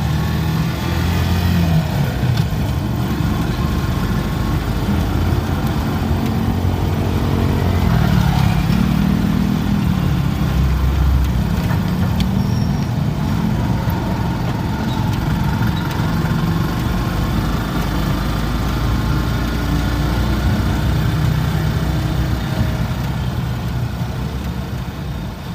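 Busy street traffic thick with motorcycles, engines idling and revving in a continuous mid-to-low drone, with passing vehicles swelling and fading among shops selling Christmas decorations and food.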